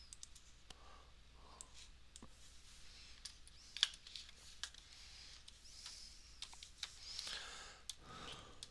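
Fingers type on a computer keyboard, faint scattered clicks and taps in uneven bursts with brief pauses, close but quiet and with no speech.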